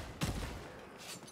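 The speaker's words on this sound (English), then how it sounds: "Good shot, Glory" A gunshot-like burst in the Warhammer Vermintide video game, one sharp blast followed by a fainter second report, set against steady game ambience.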